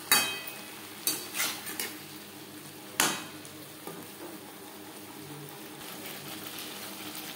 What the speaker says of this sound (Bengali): মশলার সাথে সবজি বেশ ভালো করে কষিয়ে নেওয়া হয়ে গেছে